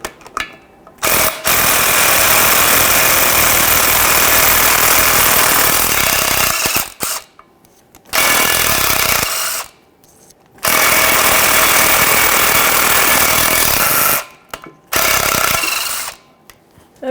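Power tool rattling in several long loud bursts with short pauses between, loosening the driveshaft mounting nuts on a 2007-2017 Jeep Patriot 2.4L L4, likely an impact wrench with a 14mm socket.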